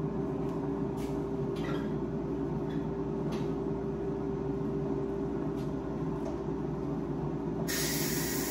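A pressure cooker vents steam after cooking corn: a continuous, loud hiss with a steady whistling tone underneath, holding evenly throughout, with faint clicks and a brighter burst of hiss at the end.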